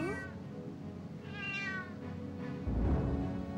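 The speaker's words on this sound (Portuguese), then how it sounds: "Eu tô vendo um gatinho" A kitten meows a few times in a 1988 Brazilian animated Turma da Mônica cartoon. The short, high mews come close and clear over quiet background noise.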